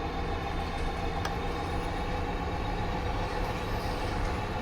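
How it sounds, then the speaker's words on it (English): An SD60M locomotive-hauled train on Sherman Hill rumbles steadily at close range as it rolls very slowly toward a stop, a dense continuous low roar with no voices. "Is that train coming to a stop? He is going very, very slowly."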